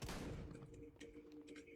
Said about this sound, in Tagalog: Isang putok lang.